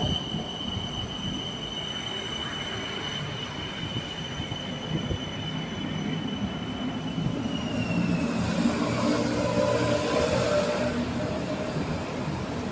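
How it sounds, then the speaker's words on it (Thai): A BTS Skytrain rumbles steadily into a station, wheels squealing with high metallic tones that fade, the rolling noise swelling as it arrives. "รถไฟเข้ามาอีกหนึ่งขบวนน"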